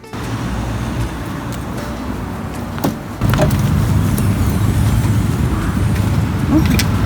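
A car packed with rescued animals drives on the road, producing a steady, loud interior road drone with a dull thump around midway, after which the rumble grows slightly heavier.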